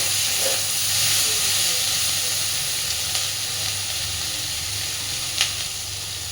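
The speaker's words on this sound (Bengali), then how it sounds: "পেঁয়াজটা দেওয়ার পরেও আরও মিনিট 2-3 ভালোভাবে এটা একটু ভেজে নেব।" Chopped onions sizzle and hiss steadily in hot oil in a pan while a fish-fat fry is prepared, a constant close frying noise with a few faint clinks and no talking.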